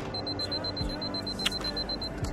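A camera's two-second self-timer beeps during a landscape shoot with a polarizer fitted, giving a steady run of short, evenly spaced high-pitched beeps that stop after about two seconds, over faint outdoor background noise.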